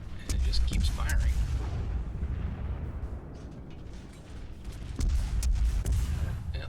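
Ship guns in the World of Warships video game fire continuously from a cruiser, a dense rumbling barrage of booming shots that swells, dips briefly and returns loud, with speech partly in the mix.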